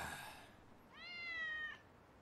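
Cat meowing in the Chainsaw Man anime, a single clear, drawn-out meow standing alone after a brief earlier sound, close and moderately quiet.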